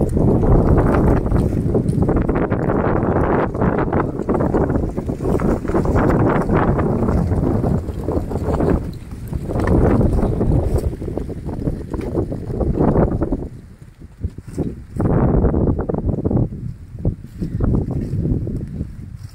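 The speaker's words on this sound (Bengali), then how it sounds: "আবার একটা সনসন করে হাওয়া বইছে।" Wind sweeping through the hills of Mizoram, between two hills above a narrow channel of water, as a loud, continuous gusting rumble buffeting the microphone with no talk.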